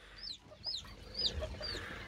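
A broody hen clucks softly with her chicks, several short high calls and low clucks scattered over a faint, quiet coop background, with no talk.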